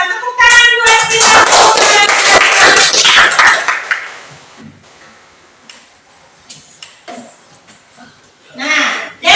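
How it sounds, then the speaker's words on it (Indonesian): A primary school class claps hands in a patterned rhythmic clap, loud and close with voices chanting along at first, then scattered lighter claps and taps follow with talking in between. "Tepuk tangan buat kita."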